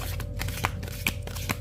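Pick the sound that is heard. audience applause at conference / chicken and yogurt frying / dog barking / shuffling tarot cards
shuffling tarot cards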